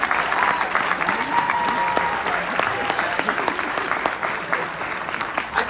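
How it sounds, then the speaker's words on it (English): A large audience at a motivational talk gives a loud, sustained round of applause that holds steady throughout, dense clapping with some crowd noise mixed in. "Give them a huge round of applause."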